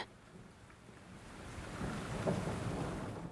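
Rain falls during a storm outside a lantern-lit treehouse, a soft, steady hiss with a low rumble beneath it that swells slightly toward the end. The sound is quiet and continuous, with no voices.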